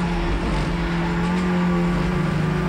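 Audi RS3 touring race car on a flat-out lap of the Hungaroring, heard onboard as a loud, continuous engine drone that climbs in pitch through the gears, close and alone.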